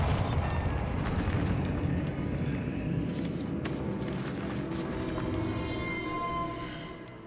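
Bombarda spell blast in Hogwarts Legacy, a dense rumbling burst with crumbling debris and scattered sharp cracks that slowly fades toward the end, heard alone without talk.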